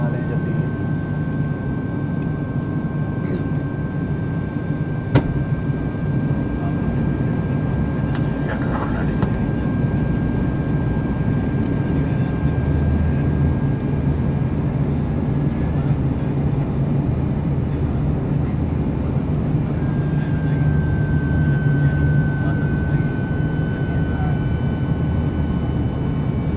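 Steady, loud cabin drone of a Buddha Air airliner, registration 9N-AJX, descending to land at Janakpur in Nepal, a continuous engine roar with a faint high whine and no break throughout.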